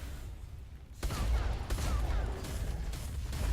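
Rapid gunfire from a gunner's True Shot skill in a video game. After a quieter second, a quick burst of close, sharp shots rattles off in a tight cluster against game ambience.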